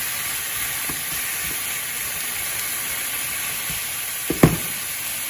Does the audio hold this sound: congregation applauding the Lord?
no